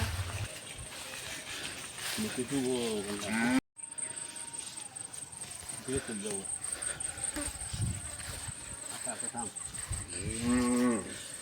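Several cows moo one after another, loud and close, over a steady high insect drone with a brief dropout partway through.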